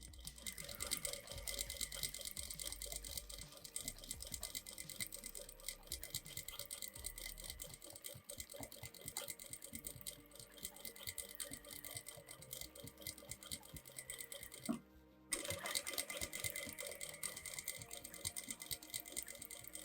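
A sewing machine stitches close, tight quilting circles along a patchwork quilt border, its steady rapid needle chatter running continuously with one brief pause near the end.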